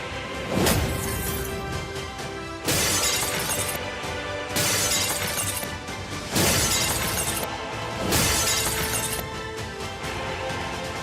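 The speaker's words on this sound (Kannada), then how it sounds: "ಕೈಯಲ್ಲಿ ಕಲ್ಲುಗಳನ್ನು ಹಿಡಿದು ರಸ್ತೆ ಬದಿ ನಿಲ್ಲಿಸಿದ್ದ ಕಾರುಗಳ ಗಾಜನ್ನ ಹೊಡೆದು ಜಖಂ ಮಾಡಿದ್ದಾರೆ" A car's window glass smashed with stones by a roadside at night, caught on CCTV: several sharp shattering crashes at irregular intervals, each followed by tinkling debris, loud and with no voices.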